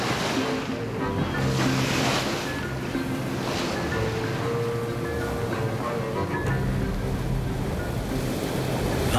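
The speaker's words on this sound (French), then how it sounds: "Vent contre marée, la vague se lève." Waves on the St. Lawrence River between Rimouski and Tadoussac, rising where wind runs against the tide, surge and wash continuously close by under steady wind buffeting on the microphone, heard from aboard a boat.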